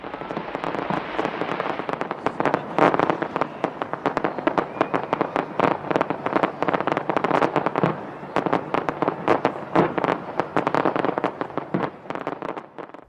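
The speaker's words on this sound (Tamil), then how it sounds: "வண்ணமயமான வான வேடிக்கைகளுடன் புத்தாண்டு கொண்டாட்டங்கள் களைகட்டின" Fireworks over Auckland's Sky Tower for the New Year 2017 celebration make a dense, loud barrage of bangs and crackles that runs continuously without pause.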